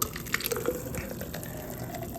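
A thick, slightly sludgy workout drink is poured, producing a close, gurgling liquid stream with small splashes over about two seconds, with no talking.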